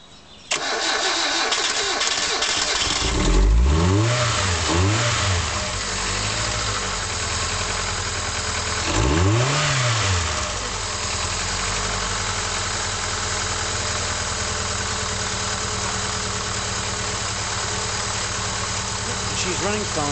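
A Hyundai Accent engine that has sat unused for three months cranks and starts, revving with throttle twice before settling into a steady idle, close and fairly loud.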